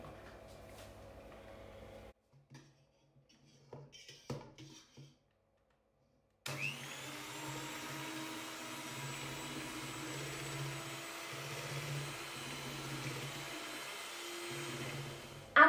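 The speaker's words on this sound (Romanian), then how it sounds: "Luăm mixerul" After a few quiet knocks, an electric hand mixer starts up abruptly and runs with a steady whirring buzz until the end, beating eggs in a large bowl for crepe batter.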